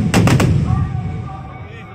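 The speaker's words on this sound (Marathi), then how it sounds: "सुंदर असे फटाके आकाशात फुटलेले दिसत होते" Fireworks at the Shivrajyabhishek celebration at Raigad fort, with three loud, sharp bursts close together early on, then a rumbling, crackling tail that slowly fades.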